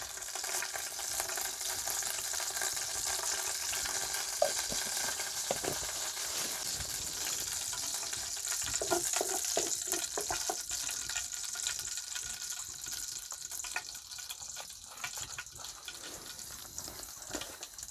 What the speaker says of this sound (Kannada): ಇನ್ನು ಬಾಣಲಿ ಒಲೆ ಮೇಲೆ ಇಡ್ತಾಯಿದ್ದೀನಿ. ನೋಡಿ ಸಾಸಿವೆ ಹಾಕ್ತಿದ್ದೀನಿ.